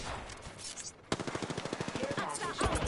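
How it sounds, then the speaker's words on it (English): A rapid machine-gun stream from a video game shootout starts abruptly and pounds on in an even, fast rhythm of close, punchy shots, with quieter game sounds and brief voices before it. "I am taking fire, friends."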